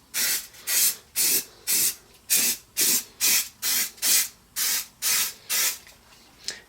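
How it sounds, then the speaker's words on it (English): A spray can of sandable primer sprays in about a dozen short, evenly spaced hissing bursts onto a costume helmet, close and steady, with brief pauses between each. "so we're just going to liberally spray on"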